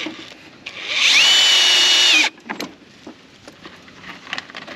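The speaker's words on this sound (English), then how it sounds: "we'll drive a few extra screws" A power drill drives a screw: one loud, close whirr rises in pitch and holds for just over a second before cutting off, followed by a few light handling knocks.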